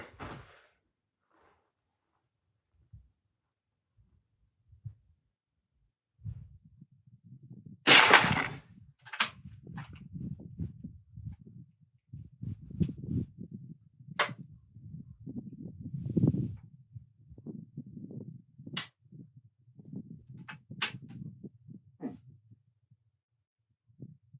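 A BSA Martini International Mark II rifle fires about five sharp, separate shots at a target range, spaced seconds apart, with low rumbling handling noise between them.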